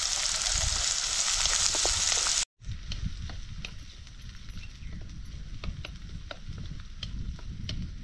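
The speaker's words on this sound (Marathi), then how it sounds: "आता कांदा थोडासा गुलाबी होईपर्यंत परतून घ्यायचा" Chopped onion sautés in a pan for jowar flour upma, giving a steady bright sizzle that cuts off briefly, then returns as a softer crackle with scattered small pops and stirring clicks.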